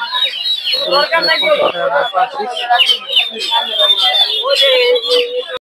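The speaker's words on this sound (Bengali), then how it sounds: "এদিকে দেখতে পাচ্ছেন কোয়েল পাখি" Many quail chirping and calling at once at a poultry and bird market, a steady, crowded chorus close by, with a brief voice mixed in.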